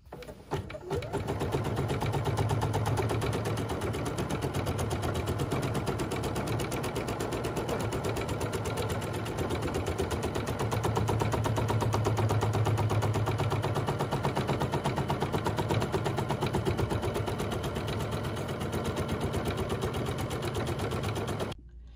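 A bernette 79 embroidery machine stitches an in-the-hoop stipple quilting pattern, a rapid, steady mechanical chatter running continuously with slight shifts in pitch and a brief stop at the very start.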